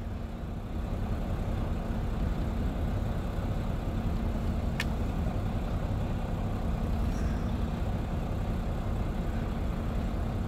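A log truck is raised on a truck dumper with its engine running, giving a steady low diesel rumble that holds evenly throughout, with a brief sharp click partway through.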